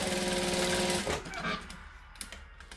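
Sewing machine running steadily while back stitching a dress sleeve, a loud continuous motor whir for about a second before slowing and stopping, with faint handling noises after.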